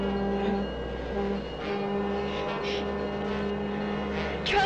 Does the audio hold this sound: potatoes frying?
no